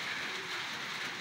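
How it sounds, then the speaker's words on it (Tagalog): Steady rain keeps falling outdoors during pigeon race training in Agoo, La Union, a continuous even hiss with no talking. "kasalukuyan nga umuulan pa rin dito mga kalapatid"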